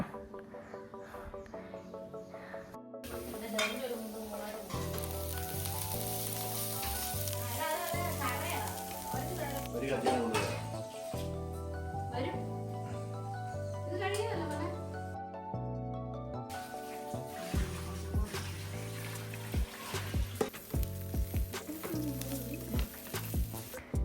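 Ginger frying in a pan while an Onam sadya feast is cooked, a steady sizzle and crackle running throughout with layered background music over it.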